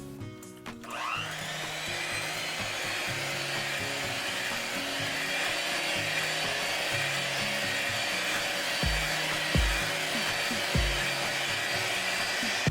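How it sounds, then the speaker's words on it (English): An electric mixer or blender whirs steadily while mixing strawberry ice cream ingredients, a loud continuous motor drone with a shifting pitch pattern and a few low thumps near the end. "Now mix your ingredients."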